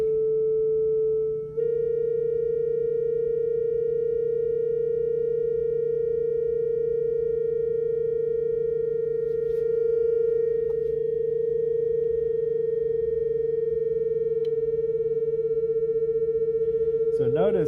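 Two steady electronic sine tones near 440 Hz hum together. One is retuned slightly off the other so that a slow throbbing beat runs under the sustained pitch, and a small pitch wobble comes in at the end.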